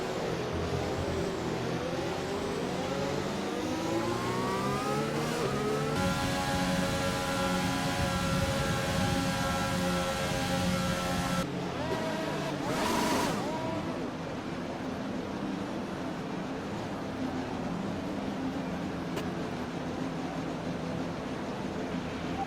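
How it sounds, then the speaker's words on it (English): Formula 1 car engine in the F1 2020 racing game, revving repeatedly through the gears with rising and falling harmonic whines and a loud sustained high-rev stretch, a brief burst near the end, then settling to a steady idle hum. "go through all the gears if you can"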